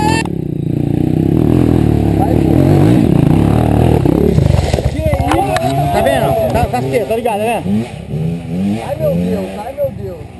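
An off-road trail motorcycle on a dirt trail ride, its engine droning and revving loudly up close while people talk and shout over it.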